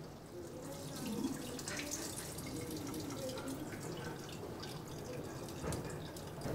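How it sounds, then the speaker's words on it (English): Room-temperature water being poured out, a continuous splashing and trickling wash of liquid at close range, steady throughout with no clear speech. "I'll pour out this water."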